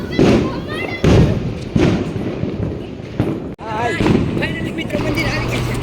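Firecrackers bursting outdoors at a temple during Diwali celebrations, several sharp thuds and pops scattered across the clip, with people talking throughout.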